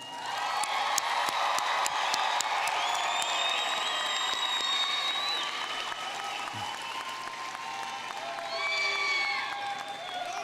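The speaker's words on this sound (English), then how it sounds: "Would those receiving bachelor's degrees please stand and receive our applause?" A large crowd at a Lamar University engineering commencement applauds bachelor's degree graduates, sustained loud clapping mixed with scattered cheers and whoops that swells again near the end.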